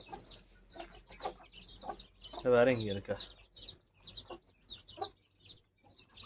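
Hen clucking and chirping close by with chicks at a Tamil village home, repeated soft clucks and high peeps with a louder squawk, while a person speaks briefly.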